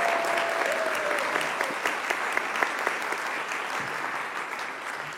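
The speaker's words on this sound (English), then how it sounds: "Give another round of applause." Steady applause from an audience fills the whole stretch, dense clapping with a few sharper individual claps standing out.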